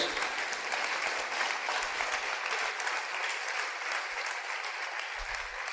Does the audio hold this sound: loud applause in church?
yes